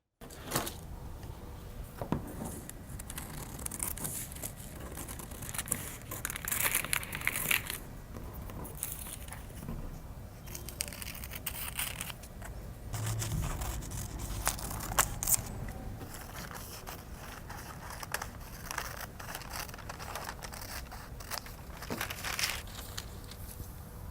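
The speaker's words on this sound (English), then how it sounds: "I need to cut the drawn details." Scissors cut drawn jumpsuit pattern pieces out of paper, a long stretch of steady crisp snipping and rustling crinkles up close, moderately loud and uninterrupted by speech.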